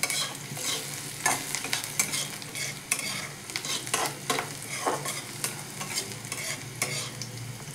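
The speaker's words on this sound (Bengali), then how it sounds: "কাজুটাও একটু ভেজে নেব।" Crushed cashews frying in a pan while being stirred, a continuous sizzle with repeated scraping stir strokes and no talking.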